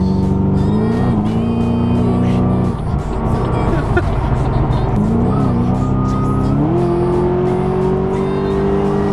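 A tuned V8 engine in a 505 wheel-horsepower Pontiac G8 revs and accelerates hard, its loud, steady roar climbing in pitch through gear changes, close by.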